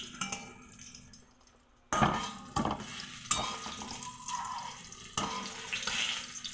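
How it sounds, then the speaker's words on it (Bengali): Hot oil spattering around frying eggplant: bursts of crackling sizzle that rise sharply, then settle, close and fairly loud, with some clattering of the pan between. "তেল ছিটছে।"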